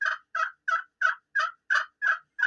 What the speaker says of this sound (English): I wanted a raspy hen. I wanted like an older hen.